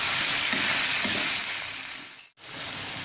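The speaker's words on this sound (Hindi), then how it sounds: "बढ़िया से भून लेना है प्याज को, बढ़िया से इसको भून लेना है।" Chicken and onion frying in a kadhai produce a dense, steady hiss and crackle, close and fairly loud, broken by one brief dropout before the sizzle resumes.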